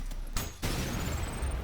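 The rail cannon fires in Ultrakill, a loud sudden blast followed by a dense noisy roar and a rising whine, close and filling the moment with game noise, no talk.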